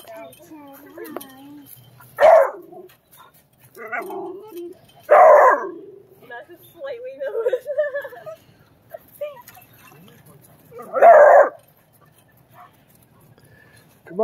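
Big dogs, including a mountain cur and a Rottweiler coonhound mix, at a little league park give several loud, separate barks spaced a few seconds apart outdoors, with voices and softer yips between them.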